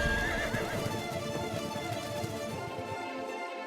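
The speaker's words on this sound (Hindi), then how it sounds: "अरे, ये घोड़े की टापों की आवाज कहां से आ रही है?" Horse hooves clip-clop in a quick, fairly close rhythm along with a whinny from the horse, all heard without any talking.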